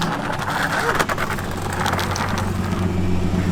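A race car at an import face-off event rolls through cool-down laps to bring its tire temperatures down, its engine a steady, loud drone throughout with a brief dip near one second and no clear revving bursts.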